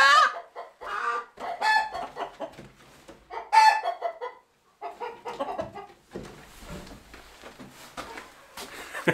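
Chickens on a farm give repeated clucks and squawky calls in uneven bursts, fairly close, with brief pauses between and a rougher scuffle near the end.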